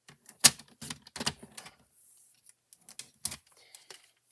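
Cardstock being trimmed down for a screen panel fun fold card gives sharp, crisp clacks and short scraping cuts, close and irregular, with quieter rustles between them.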